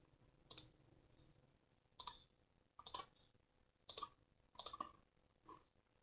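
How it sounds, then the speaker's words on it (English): Computer mouse clicks crisply about five times at irregular intervals of roughly a second, close and isolated in a quiet room. "Right click."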